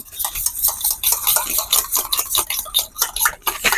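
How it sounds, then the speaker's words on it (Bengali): Eggs with salt are whisked briskly in a bowl, making quick, close, rhythmic clicking and scraping against the bowl's sides, continuous and fairly loud with no talk. "ডিমটা ফাটিয়ে নিচ্ছি"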